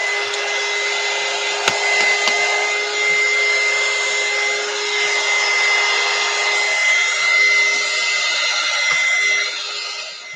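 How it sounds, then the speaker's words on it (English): A heat gun blows dust off a desk with a loud, steady whooshing airflow and a constant motor whine that holds evenly for about ten seconds before tapering slightly at the end. "So I'm going to use the heat gun."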